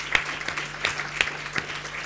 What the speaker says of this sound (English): I think that we can have an applause for them.